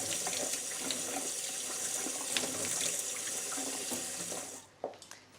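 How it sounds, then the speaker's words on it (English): Rice being rinsed in a sieve under a cold kitchen tap, a steady close stream of running water hissing and splashing, then the flow cuts off leaving a few drips and clatters. "rinse it under the cold tap until the water runs clear"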